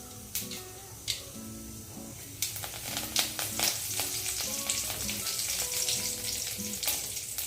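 Curry leaves dropped into hot oil crackle and sizzle sharply, with a steady frying hiss under scattered pops and a few clinks of a utensil.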